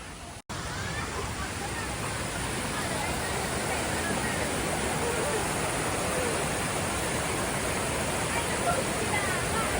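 A continuous roar of rushing, falling water at a forest waterfall in Thrissur, Kerala, fills the scene, steady and loud with no pauses.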